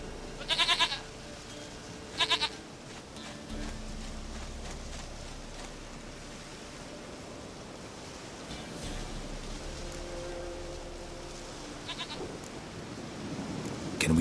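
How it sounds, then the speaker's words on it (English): Goat bleats in The Witcher 3, two short nasal calls near the start and more around the twelve-second mark, set over a steady low ambient drone with faint distant tones in between. "Goat of mine, dearest, sweetest goat."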